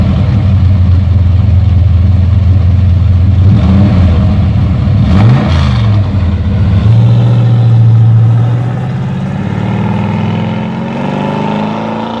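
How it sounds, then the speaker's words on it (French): A 1970 Chevrolet C10 four-wheel-drive pickup engine loud and close on a drive, a steady low rumble that rises in pitch as it accelerates and shifts, then settles to a lower drone. "Allez, c'est parti pour un petit tour avec le pick-up"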